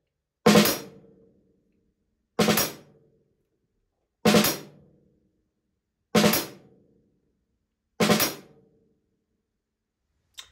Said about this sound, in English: this is going to be a right-handed drag. The left-handed grace notes are going to be on the snare drum